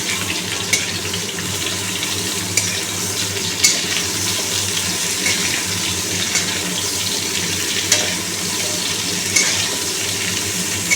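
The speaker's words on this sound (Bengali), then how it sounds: "আলু ভাজা ভাজা হয়ে গেছে এবার আমি সজনের ডাটাগুলো দিয়ে দেবো" Drumstick stems and potatoes frying together in a pan, with a steady broadband sizzle and occasional stirring clinks against the pan throughout.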